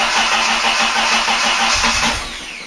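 A Mk3 Ford Cortina classic car engine cranks and catches, a dense roar building briefly before settling, loud and close with no voices.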